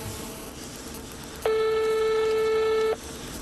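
Telephone signal: a single steady electronic tone sounds for about a second and a half, clear and mid-loud, over a quiet room background.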